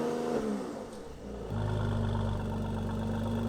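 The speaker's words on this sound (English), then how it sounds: "switch into Sport Plus mode, and the AMG Performance exhaust system opens up for a much more appropriate tone" Mercedes-AMG C43 with the AMG Performance exhaust open in Sport Plus mode, a low engine drone that dips and then rises into a steady, fuller hum, moderately quiet and with no talking.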